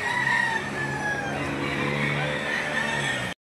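Several roosters crow at a busy chicken market in Lipa, Batangas, their calls layered and steady over a dense crowd murmur, with no clear talk.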